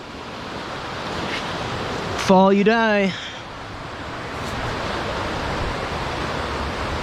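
Rushing water of the Ausable River in the Adirondack Mountains, NY, a steady broad roar running the whole time, with someone speaking briefly over it near the middle.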